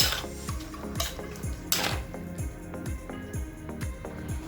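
Fish curry being stirred in a pot with turmeric and salt, a spoon scraping and clinking against the metal in a steady run of close, repeated strokes.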